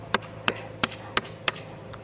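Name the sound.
hammer tapping roof tile shards into planting hole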